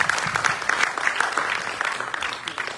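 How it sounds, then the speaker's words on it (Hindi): An audience at a Hindi stage performance applauds the performers with brisk, lively clapping. Sharp individual claps stand out from the crowd, and the applause stays steady throughout. "इनके लिए कृपया तालियों से इनका पुनः संवर्धन करें।"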